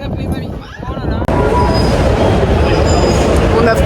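A Madrid metro train rumbles loudly and steadily through the underground, with a dense low roar of wheels and carriage noise and faint high squeals, heard from inside.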